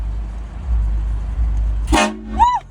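Horn Blaster train horn kit on a lifted Ford F150 blasting twice in quick succession, loud and close, with a low engine idle rumbling before and between the blasts.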